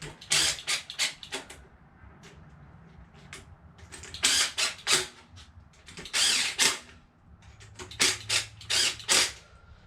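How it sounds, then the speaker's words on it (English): An impact wrench snugs valve cover bolts on a 7.0 L (427 cubic inch) LSX engine, delivering several loud, short rattling bursts in clusters separated by brief quiet pauses. "go ahead and get them snug with my impact wrench here, but not tighten down."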